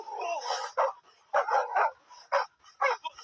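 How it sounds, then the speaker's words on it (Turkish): A small dog barks and yips in short, sharp bursts, several in quick succession, close and fairly loud. "Adı Minnoş olan köpek"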